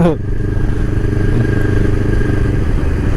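A motorcycle with a silenced exhaust pipe runs steadily with a fairly muted, low exhaust rumble, close by and continuous throughout.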